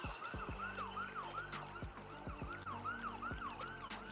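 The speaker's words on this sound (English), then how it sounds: "It's like all type of ambulances" Several ambulance sirens wailing at once in the distance, their rising and falling tones overlapping in a steady cycle over low traffic rumble.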